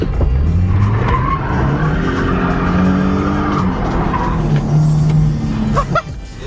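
A Traxxas Slash 4x4 RC car drives and skids, with continuous motor whine and tire scrubbing over several seconds and brief voices underneath.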